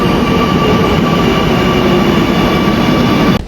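A metro train on the Aluva line rolls through the station with a loud, continuous rumble and steady humming drone, cutting off abruptly near the end.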